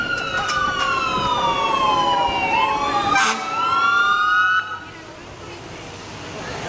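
A fire rescue vehicle arrives with its siren wailing through rising and falling sweeps, loud and close, then cuts off abruptly near the end and leaves the low engine rumble.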